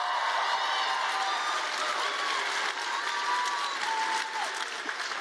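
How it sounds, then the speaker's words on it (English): An audience claps and cheers at a live university event, a dense, steady wash of applause with a few whistles running for about five seconds without any talking over it. "How about a round of applause for you for getting out here on a Tuesday night?"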